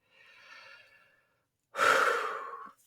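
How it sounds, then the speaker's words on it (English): Two breaths blown straight into a microphone, a soft exhale first, then after a short silence a louder, rushing outbreath that fades out, close and with no talk. "Try not to breathe into the mic there."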